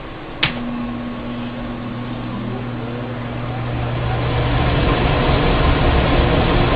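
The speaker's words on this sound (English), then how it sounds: "So I just switch on the blower." A blower for a HEPA filter particle test switches on with a click and spins up into a steady, loud mechanical whir with a low hum, growing a little stronger as it settles.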